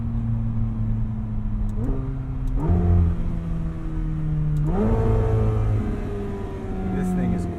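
A 2020 McLaren 720S convertible supercar engine revs hard in repeated bursts, each climbing in pitch before dropping back to a loud idling rumble, with someone talking excitedly over it.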